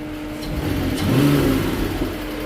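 A sludged-up Nissan NV 3500 engine revs on throttle, the note rising and swelling at mid-clip, then holding steady near and loud with no talk.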